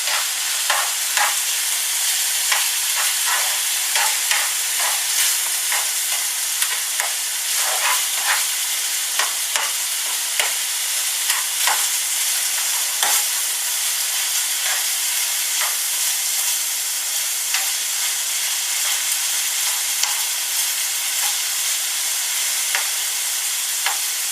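Minced meat sizzles steadily in a hot pan while a spoon breaks it up, adding frequent small scraping clicks over the constant hiss, close and continuous with no speech.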